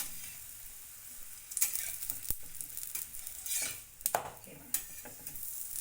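Aloo paratha fries in oil poured around its edges on a hot pan over raised heat, giving a steady close sizzle with sharp spatter bursts and occasional scraping and stirring clatter; no talking.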